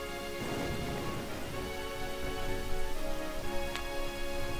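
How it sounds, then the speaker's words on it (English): Stormy wind and steady rain from the Route 7 area of the video game Pokemon White, a constant hissing wash with no voices, carrying on at an even moderate level throughout. "We'll catch cold standing around talking in this wind and rain."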